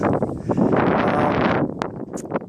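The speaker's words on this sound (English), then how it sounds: "If it sounds a little windy, it's because I am at the top of a mountain." Loud, blustery wind on a mountain top buffets the microphone in steady gusts, easing slightly toward the end with a few brief rustles.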